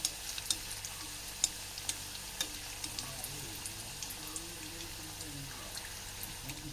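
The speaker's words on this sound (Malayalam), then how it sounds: "എണ്ണ ഒക്കെ ചൂടായി വന്നിട്ടുണ്ട് നമുക്കിനി ഒരേ സമൂസ ഇട്ട് ഫ്രൈ ചെയ്തെടുക്കാം" Beef samosas deep-frying in hot oil give a steady, fine crackling sizzle with scattered sharp pops throughout, close and continuous with no voices.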